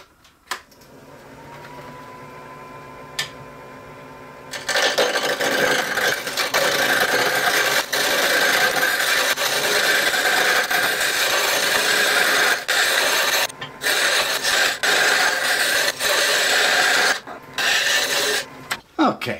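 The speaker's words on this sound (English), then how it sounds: "going to use an easy turn tool and get it round" Wood blank spun on a lathe and roughed round with an easy turn tool while making a small gift box; after a quiet start, a steady loud rasping scrape runs continuously with brief breaks.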